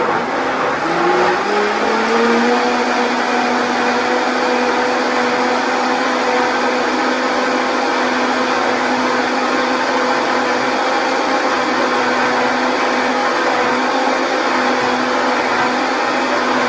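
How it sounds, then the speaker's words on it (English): A blender runs on high, pureeing cooked cranberries into a smooth sauce, with a loud, steady motor whine that rises in pitch as it spins up in the first seconds, then holds constant and alone. "We're going to blend them on high until they are completely smooth."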